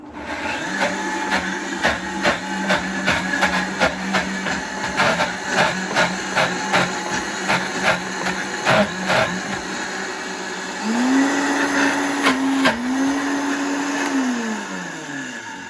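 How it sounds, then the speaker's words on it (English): A small handheld mixer agitates hummus in a continuous pulsing whir with rhythmic clicks, loud and close, then shifts to a higher steady drone toward the end. "I'm actually gonna go ahead and agitate it with my little"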